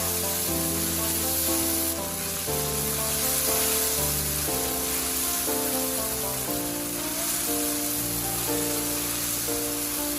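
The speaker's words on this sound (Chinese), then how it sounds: "油热之后，先把番茄倒下来，用铲子不停地翻炒，炒出番茄汁" Tomatoes stir-fried in hot oil with a spatula in a wok: a steady, close hissing sizzle runs throughout, partly masked by continuous background music.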